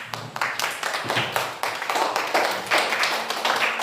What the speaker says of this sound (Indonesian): berikan aplaus untuk kelompok Aceh